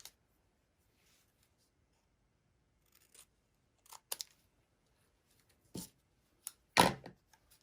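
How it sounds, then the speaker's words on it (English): Scissors snip around an embossed paper tag for a Halloween card, a few short, crisp cuts spaced out over near silence. "I just custom cut around it, just to make it smaller than the tag"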